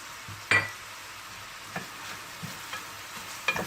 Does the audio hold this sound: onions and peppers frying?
yes